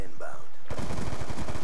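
Rapid automatic gunfire bursts out in a Black Ops 2 match after a brief quieter moment, loud and dense rattling shots continuing to the end.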